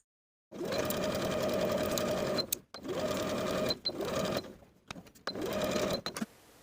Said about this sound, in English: Sew the princess seam with a 3/8 inch seam allowance.